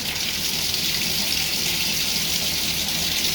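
Hot water pours steadily from a shower in a house, a constant close hiss and splash with no break and no voices.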